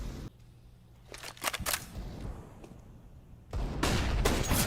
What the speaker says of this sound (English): Oh, good flashbang.